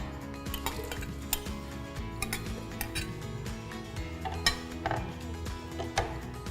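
Blender running on a mixture of ingredients, a steady whirring hum with rattling, clinking mechanical knocks scattered throughout, fairly quiet and with no talking.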